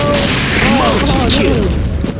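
A grenade blast in a shooter video game during a ranked round, a loud booming burst with scattered crackle that fills the short span, while a voice talks over it.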